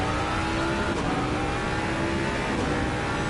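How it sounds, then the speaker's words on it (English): A Jaguar race car engine roars steadily at high revs around the Bathurst circuit in Assetto Corsa Competizione, loud and continuous with slight pitch shifts. "And you can just hear the Jaguar."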